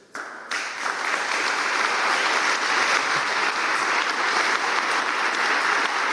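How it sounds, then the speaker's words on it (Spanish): A large crowd at a cabinet swearing-in ceremony at Peru's Government Palace bursts into sustained, loud applause that rises quickly and holds at an even, dense level to the end. "Fuertes aplausos entonces para Pilar Macetti"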